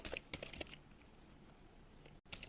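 A computer keyboard clicks in short bursts of keystrokes, a few quick taps at a time with brief pauses between, faint and close in a quiet room with no talk.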